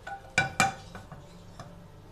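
Metal utensils clink against pots while semolina is moved into a large cooking pot, two sharp clanks close together followed by softer scraping taps.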